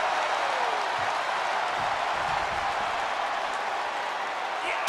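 A wrestling crowd in the WWE 2K22 game at an Extreme Rules match claps and cheers as a broad, steady wash of noise with a brief rise near the middle, with no clear voices above it.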